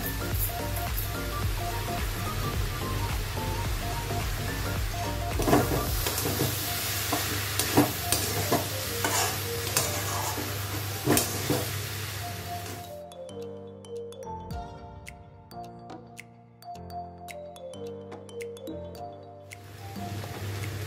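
Gobindobhog rice is stirred in a pan over heat, with a dense sizzle and scraping for the first half before it thins into quieter, sparse stirring sounds.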